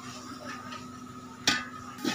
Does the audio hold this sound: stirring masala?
yes